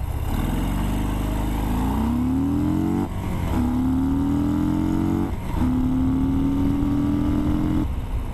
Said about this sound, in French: je vous propose un petit départ arrêté, 0 à 100 km/h à fond